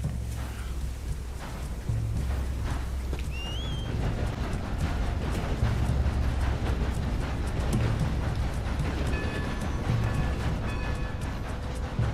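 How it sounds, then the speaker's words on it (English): Steam train running in Red Dead Redemption 2, a steady loud low rumble and chugging with rail clatter throughout, with a brief whistle-like tone early on and faint high squeals later. "Time to start this train again."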